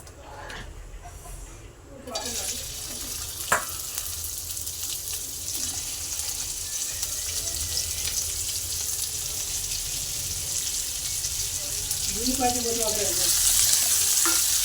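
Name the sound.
okra (bhindi) frying in oil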